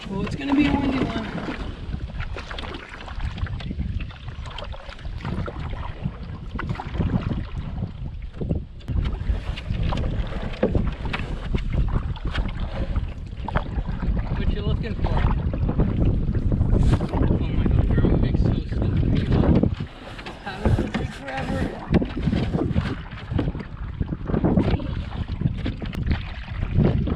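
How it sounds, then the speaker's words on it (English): Strong wind gusting across a lake during a canoe trip in Algonquin Park, a continuous rough buffeting roar with wind noise on the microphone, water lapping underneath and voices talking faintly. "Well, it's gonna be a windy one."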